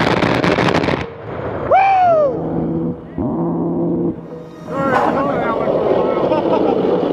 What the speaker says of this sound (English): You hear it first when it fires, and then you hear it echo from the gun in the sky.